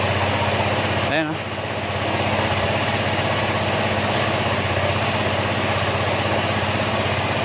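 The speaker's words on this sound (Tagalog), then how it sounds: "tahimik na yung makina niya mga sir." A Honda ADV160 scooter engine idles after an overhaul, running without its airbox fitted. The idle is steady, close and even, with a brief dip near the start before it settles back to a constant hum.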